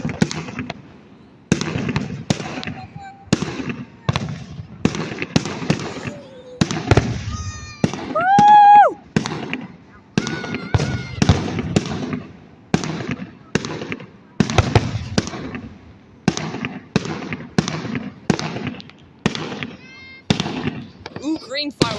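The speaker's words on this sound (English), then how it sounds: "Ooh, green fireworks." Independence Day fireworks burst repeatedly in sharp, loud booms and crackles, some followed by whistling, with people talking between the blasts.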